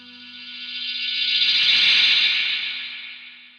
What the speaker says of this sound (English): so it can kind of do the space echo thing